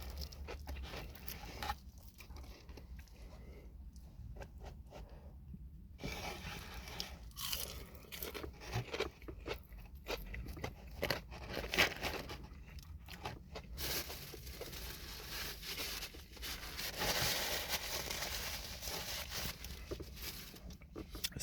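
Someone chews crunchy deep-fried fish and shrimp close to the microphone, with loud, crackling bites and irregular munching across a long stretch, and speech mixed in at times.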